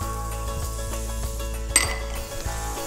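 Onions and celery sizzle in about a tablespoon of olive oil in a saute pan, a steady close frying hiss with a few pan and utensil clinks and knocks and one sharp metallic tap.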